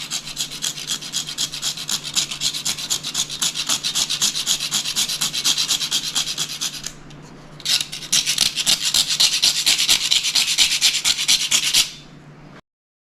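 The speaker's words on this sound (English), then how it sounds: "we're going to take a cinnamon stick and we're going to grate some cinnamon around the edges" Cinnamon stick grated around the edges of a spice cake, a dry rasping scrape in steady rapid strokes, close and continuous, with one short pause before the grating resumes and stops.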